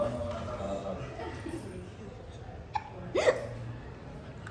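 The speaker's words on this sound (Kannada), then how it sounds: "ಅಕ್ಕ ಅವಳಿಗೆ ಬಿಕ್ಕಳಿಕೆ ಬರ್ತದೆ" A young girl hiccups at a home birthday celebration, a few short sharp catches standing out near the end over quiet background chatter and room noise.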